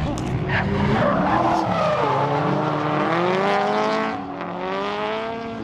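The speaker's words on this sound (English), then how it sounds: "So they're drifting over on the road course" Cars drifting on a road course, tires squealing in long wavering screeches over engine roar, loud and sustained, with people talking faintly beneath.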